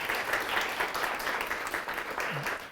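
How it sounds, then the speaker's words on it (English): Conference audience applause, a dense, continuous wash of many hands clapping at steady volume throughout, with faint voices mixed in. "give them another round of applause"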